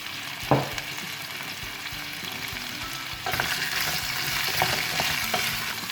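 Potatoes and carrots fry in a pan with a steady, bright sizzle, a spoon stirring and clinking now and then; the sizzle grows louder partway through, with no talking.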